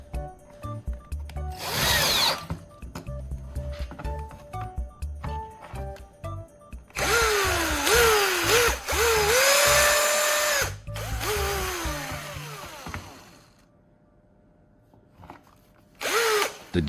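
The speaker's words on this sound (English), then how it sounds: "I insert it carefully, pull the trigger, and the drill responds immediately" A cordless drill motor running on a restored old battery whirs in several bursts, pitch rising and falling as the trigger is pulled and released, with mechanical clicks between runs.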